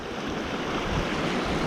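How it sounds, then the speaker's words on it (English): A small creek flowing on a cool day, a steady, close, broadband rushing and babbling with no pauses, alone and fairly loud. "Got a beautiful little creek here."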